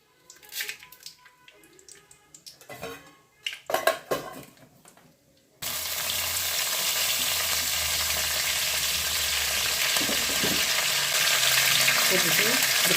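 Cumin, pepper and fenugreek drop into hot oil for a fish curry; after some clinks and knocks of utensils, a sharp loud sizzle starts and holds as a steady crackling hiss, with a spoon occasionally scraping the pan.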